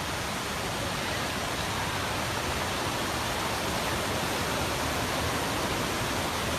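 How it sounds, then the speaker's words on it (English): A waterfall in Great Smoky Mountains National Park gives a steady, loud, broadband roar of rushing water with no break and no voices heard. "All right, we have reached the waterfall."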